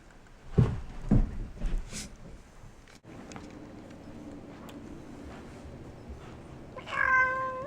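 A house cat meows a few times at close range to rouse people from bed, short plaintive calls early on, then quieter room sounds and a brief higher cry near the end.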